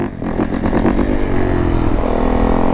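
A Yamaha YZ450 dirt bike with a bent clutch and a damaged exhaust runs loud and close, its engine roaring steadily and rising slightly in pitch as it revs.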